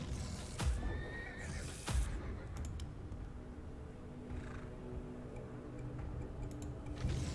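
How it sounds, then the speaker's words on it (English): A horse neighs twice in the Tainted Grail: Conquest video game, two sharp whinnies close together near the start, followed by quieter game ambience with faint ticking and one more soft thump at the end. "I heard a horse neighing and looked up"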